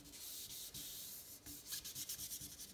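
Sandpaper rubbed by hand over a vintage Atala bicycle frame being prepared for a gravel bike build, a steady close scratching that breaks into quicker, choppier strokes toward the end, with no voices.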